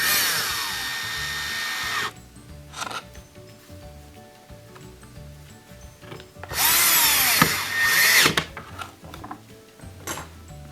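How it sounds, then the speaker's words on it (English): A power drill drives two Torx 15 screws into a Bosch dishwasher, giving two loud whirring bursts near the start and middle, separated by quieter handling noises and clicks. "Then we'll add in the two Torx 15 screws. Get those tight."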